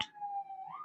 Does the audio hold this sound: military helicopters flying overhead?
no